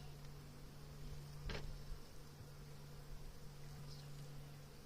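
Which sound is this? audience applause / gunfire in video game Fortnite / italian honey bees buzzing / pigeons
italian honey bees buzzing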